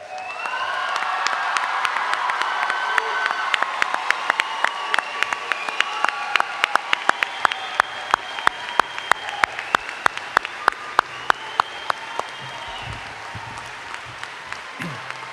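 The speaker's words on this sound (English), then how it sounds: "Please give them another round of applause." A large crowd gives sustained applause for a graduating high school class at a 2023 commencement, dense clapping that thins toward the end into a few scattered sharp claps and cheers.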